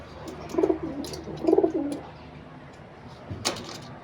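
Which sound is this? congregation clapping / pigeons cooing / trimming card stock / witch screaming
pigeons cooing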